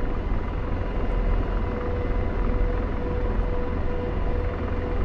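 Steady, loud rotor and turbine drone of an AH-64D Apache helicopter lifting off in the DCS flight simulator, a dense continuous roar with a faint tonal whine that holds level throughout, no voices.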